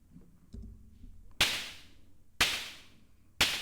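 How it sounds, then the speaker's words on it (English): Unprocessed snare drum recording with a sharp, whip-like crack: three loud, bright hits about a second apart, each with a quickly decaying ring, preceded by faint lower tapping. "This is what it sounded like before I did any processing on it."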